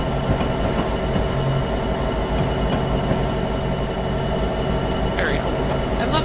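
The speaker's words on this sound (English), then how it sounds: "Another BNSF locomotive and the Norfolk Southern helper." A BNSF locomotive with a Norfolk Southern helper rumbles past in Train Sim 2015, making a loud, continuous low engine drone and rail noise throughout.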